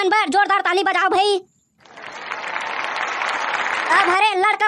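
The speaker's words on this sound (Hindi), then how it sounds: "ए मन बार जोरदार ताली बजाओ भाई" Applause from an audience at a school Independence Day event, following a cartoon voice with a short silence, then a steady dense clapping wash that builds; a voice returns near the end.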